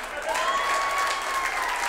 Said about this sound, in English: Clap for me getting that, yes.